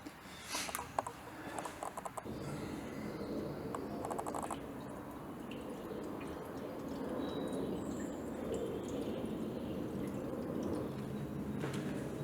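Water drains in a steady trickle and drip from the loosened bottom radiator pipe of a 1956 Chevy Bel Air, faint and continuous, with a few clinks of metal near the start.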